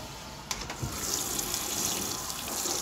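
A washing machine runs a quick cold hand-wash cycle with an animatronic head inside, giving a steady, moderately loud wash of running and sloshing water after a couple of soft knocks near the start.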